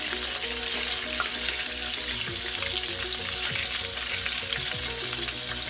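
Meat drippings fry loudly in a pan, a dense continuous sizzle with scattered pops and crackles up close.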